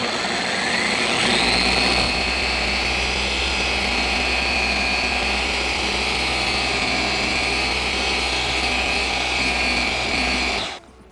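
A Turbo Wax Swirl Remover Pro X car polisher running on speed 1, a loud steady whirring motor hum with a rising whine at the start that holds for about ten seconds before cutting off abruptly.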